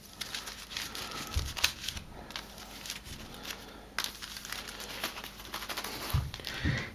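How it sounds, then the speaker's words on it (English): A deck of game cards for the board game Kingdom Death is shuffled by hand, soft crinkling riffles and taps coming in short bursts, close and quiet with no talking. "So I'll give it a good shuffle here."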